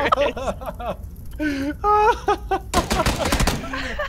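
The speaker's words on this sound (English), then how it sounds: "Who the fuck is shooting us?" Gunfire in the video game PUBG, a rapid burst of shots near the end, following excited shouting and laughter from players talking over it.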